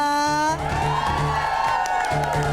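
A studio audience of women on an Indonesian game show shouts and cheers loudly and continuously, a dense crowd roar with whoops rising over it.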